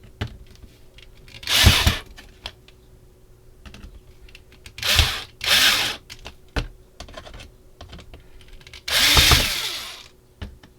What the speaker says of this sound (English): Use a power screwdriver on these.